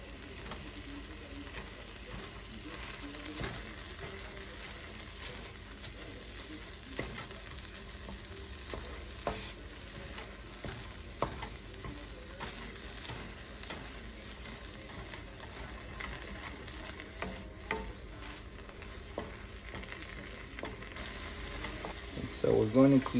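Ground turkey and onion fry in a pan with a steady, continuous sizzle, broken by small scrapes and clacks from stirring throughout, with louder stirring knocks near the end.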